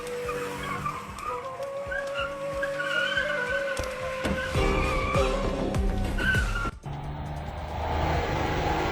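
Two four-wheelers perform stunts on a road, their tires squealing and skidding in long, loud, sustained screeches over roaring engines.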